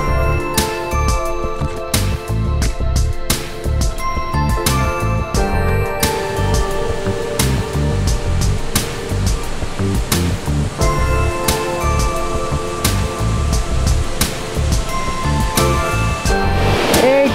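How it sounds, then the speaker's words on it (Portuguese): Waterfall on the Palmeira River at Terra Ronca, a loud continuous rushing roar of falling water, dense and steady throughout with broadband churning and no clear speech. "Tá escutando o barulhozinho? É a magia, a cachoeira."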